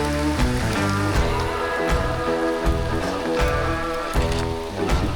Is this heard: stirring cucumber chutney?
no